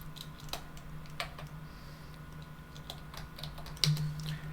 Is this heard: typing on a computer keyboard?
yes